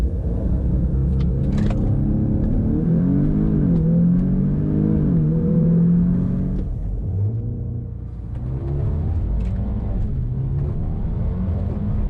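An Audi S3 accelerating hard on a damp road during a 0-60 mph test, heard from inside the cabin as a loud, sustained engine roar rising in pitch through the gears, with a brief dip at a gear change before pulling again.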